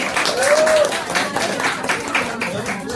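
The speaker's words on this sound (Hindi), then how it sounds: "जोरदार तालियां हो जाए" A crowd applauds steadily and loudly throughout a performance at an institute's anniversary event, with a brief whistle near the start.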